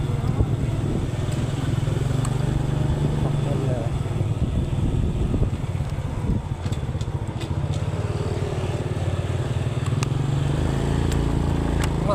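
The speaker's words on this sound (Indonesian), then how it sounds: "Aduh, motor juga nih." A motorcycle engine drones steadily and close by on a road on the way to a market, with other traffic and voices mixed in throughout.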